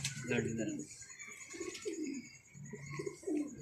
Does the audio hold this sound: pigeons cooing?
yes